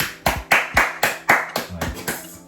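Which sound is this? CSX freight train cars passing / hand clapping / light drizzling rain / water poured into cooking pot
hand clapping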